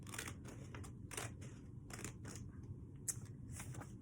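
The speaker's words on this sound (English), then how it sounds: "we're going to cut both pieces of the paper, not just the first flap" Scissors snipping through two layers of paper, a quick run of crisp, close cuts about every half second, quiet against a soft room hum.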